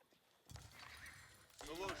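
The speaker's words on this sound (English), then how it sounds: "For the horse archer number 3, starting to build up here for Puppypaw" Horse archers in the real-time strategy game Age of Empires IV produce a brief horse whinny and faint hoof clatter beneath a commentator talking over the match.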